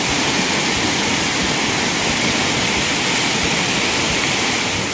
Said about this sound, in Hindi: झरने के शोर के आगे आवाज़ हो सकता है ना सुनाई दे रही हो।